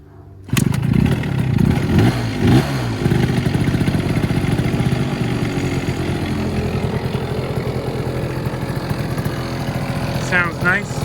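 A small 70cc two-stroke scooter engine, kick-started with no electric start, kicks into life and idles steadily with a buzzing rattle, close by, with a voice briefly over it.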